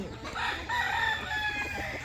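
Chickens fill a yard with a rooster crowing in a long, drawn-out call, hens clucking underneath, all fairly close and continuous.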